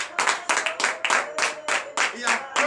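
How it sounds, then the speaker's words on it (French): A church congregation at a morning prayer service in Benin clapping in praise, with sharp repeated bursts of handclaps in a quick uneven rhythm, close and lively. "Donnez de vive acclamation au Seigneur."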